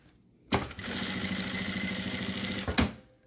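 A sewing machine runs steadily while stitching a straight seam, its close, even mechanical whir lasting a couple of seconds before stopping with a brief final clunk.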